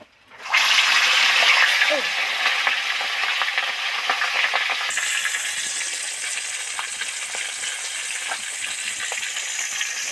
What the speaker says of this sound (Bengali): তেল তো গরম হয়ে গেছে এবার সবার আগে মুড়োটা তেলের মধ্যে দিয়ে দেব